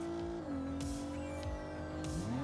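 A car in the Saints Row video game drifts with a loud, continuous tire squeal, its engine revving and wavering underneath as the slide carries on.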